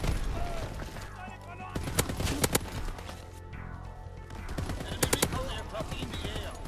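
Bursts of LAD machine gun fire in the Call of Duty WW2 video game, sharp rapid volleys with louder isolated shots near two and five seconds over a busy battlefield background.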